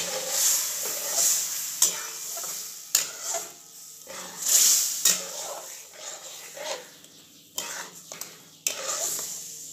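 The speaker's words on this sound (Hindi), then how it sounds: "अब इसको भी मुझे चलाते ही रहना है, नहीं तो ये हो जाएंगे, लम्स हो जाएंगे, जल जाएंगे।" Moong dal halwa stirred in thick milk in a pan, irregular scraping and clinking strokes of a spoon against the pot with soft bubbling, close up, with occasional faint background sounds.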